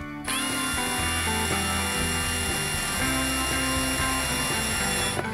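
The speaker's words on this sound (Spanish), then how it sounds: "¿Dónde tengo el taladro? Aquí. Aquí lo tengo." A power drill drives lag screws into wooden headboard boards, a steady mechanical whir with shifting pitch running continuously and loud, close by.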